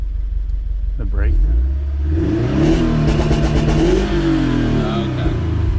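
A modified Toyota FRS engine revs loudly as the gas pedal is floored, a rising, sustained mid-pitched roar that swells and falls, with people talking over it.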